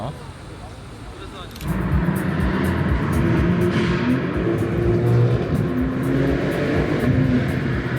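An Audi RS7 and a BMW M3 rev hard, the engines jumping to a loud, sustained roar that stays close and steady after a quieter start.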